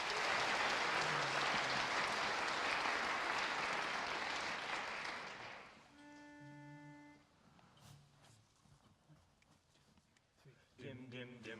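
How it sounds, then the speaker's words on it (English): Audience applause at a Science Friday event at Miami University: loud, dense clapping from a crowd for about six seconds that then fades out, followed by a quieter stretch with a tonal sound and voices. "give them a big round of applause"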